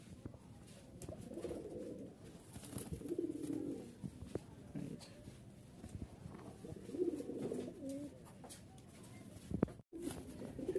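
Rajshahi Giribaz pigeons, a colour-matched pair of heavily feathered male and female birds, coo in low, soft, repeated bursts close by, with rustling and handling noise around them.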